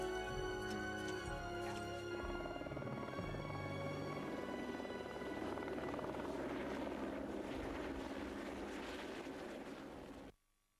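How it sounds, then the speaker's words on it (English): A fleet of helicopters drones loudly and steadily with a churning rotor wash and wind, holding strong for about ten seconds before cutting off abruptly. "every morning a fleet of helicopters transports 60 crew"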